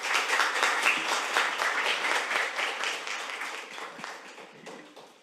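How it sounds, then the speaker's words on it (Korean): An audience at a National Assembly Research Service briefing in South Korea claps steadily, a dense wash of applause that starts loud and gradually fades toward the end, with no talking. "소개를 맡아주실 정경윤 실장님, 큰 박수로 맞아주시기 바랍니다."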